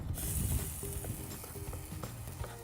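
Oil sizzling in a pan as it heats for pouring over a Turkish dish of stuffed vegetables and soup, a steady low crackling hiss with faint clinks, quiet and without talk.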